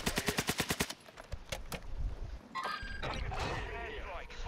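Rapid automatic gunfire in a battle royale video game: a close, loud burst of about ten evenly spaced shots, then scattered single shots and explosive crashes, with players talking over the action.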